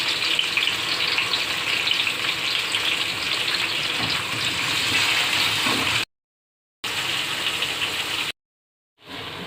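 Apple gourd (tinday) fries lightly in a pan with a steady, close hiss and sizzle, broken by two short silent gaps.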